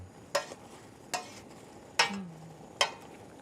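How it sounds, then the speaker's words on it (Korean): Dried pollack strips and other soup ingredients are stir-fried in a pot, with four separate scraping strokes of a utensil, each a short rasp followed by a brief fading sizzle. "그래도 한 번씩 이렇게 볶아주세요."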